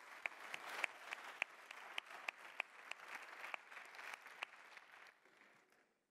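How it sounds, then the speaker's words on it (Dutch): An audience at a university lecture gives a round of applause for a guest speaker, a fairly faint, crisp patter of many hands with a few sharp individual claps, fading out toward the end. "Mag ik een groot applaus voor Jaap Korteweg van Those Vegan Cowboys?"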